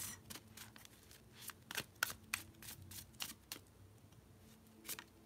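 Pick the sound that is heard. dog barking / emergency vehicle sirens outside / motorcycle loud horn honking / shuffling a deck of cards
shuffling a deck of cards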